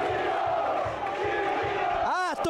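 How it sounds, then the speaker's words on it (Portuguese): Football supporters chant in a stadium during a Campeonato Sul-Mato-Grossense match between Operário-MS and Dourados, a loud rhythmic crowd chant with pulsing low beats, ending in a brief sweeping whistle-like sound. "A torcida grita timinho e vai gritando com moral a torcida."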